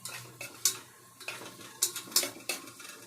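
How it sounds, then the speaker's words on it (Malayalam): Finely chopped onion is stirred in a pan over a soft, faint sizzle, with intermittent utensil scrapes and clinks against the pan coming in uneven bursts. "ചെറുതാക്കി അരിഞ്ഞു വെച്ച ഒരു ചെറിയൊരു പകുതി ഉള്ളി ഇട്ട് കൊടുക്കാം"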